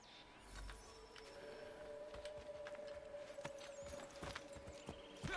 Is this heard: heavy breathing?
no